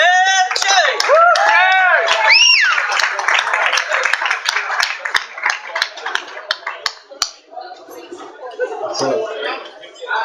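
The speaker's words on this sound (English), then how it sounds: "give a round of applause for Jaye Mills" A small comedy show crowd greets comedian Jaye Mills with loud whoops and cheering voices, then scattered, uneven hand claps that thin out and fade as the room settles.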